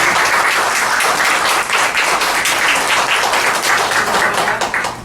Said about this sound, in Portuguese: eu peço, representando o companheiro Alencar, a família dele, uma salva de palmas pela grande ideia que o companheiro teve.